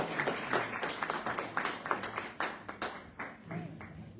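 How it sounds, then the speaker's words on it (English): Modest audience applause after a pop-up lecture at a language lab, a small room's worth of hands clapping steadily and fairly close for a few seconds. "Let's give a round of applause."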